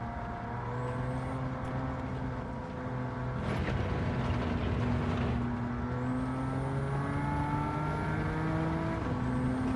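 A 3.8-litre turbocharged flat-six racing car in a driving video game holds a steady, loud engine drone, with revs climbing and shifting through harmonic sweeps over tire noise and a burst of grit midway.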